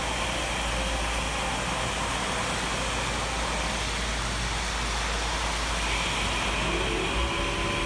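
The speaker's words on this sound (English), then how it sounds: "That was a freight train." A freight train hauled by three engines goes by as a loud, steady, broad rumbling roar that holds for about eight seconds with no talking.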